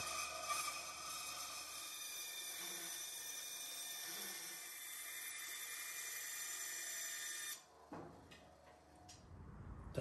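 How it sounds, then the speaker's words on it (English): A power saw with a worn blade cuts a piece of wood in a new home workshop, producing a faint, steady, high-pitched whine that stops abruptly with a clunk and some rattling near the end. "I'm about to do my first cut my first piece of wood in my new shop"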